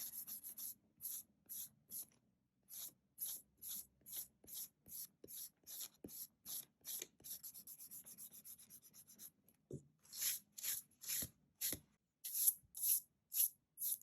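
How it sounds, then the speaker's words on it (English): A pencil eraser rubs across a paper sketch in quick repeated strokes, bursts of scratchy friction with short pauses, close and clear with no voices. "I'm going to take my kneaded eraser or just my pencil eraser, and I'm going to take the extra lead off"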